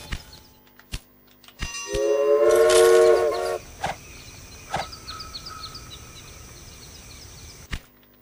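A train in the Railway Empire video game sounds a drawn-out whistle lasting over a second, set among sparse sharp interface clicks and a low ambient hum, with no talking.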